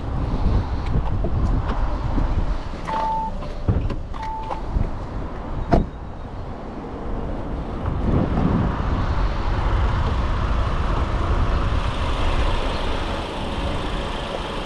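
A 2024 Audi A3 engine idles with the hood open, a steady, fairly loud low chugging hum running throughout, with a few faint clicks and knocks near the car.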